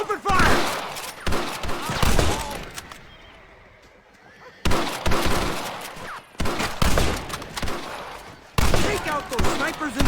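Gunfire in a Red Dead Redemption shootout: loud, close volleys of rapid shots in several bursts, broken by brief quiet gaps.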